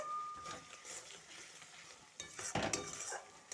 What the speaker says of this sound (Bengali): এটা ভালোভাবে আমি মশলাটার সাথে মাখিয়ে নেব।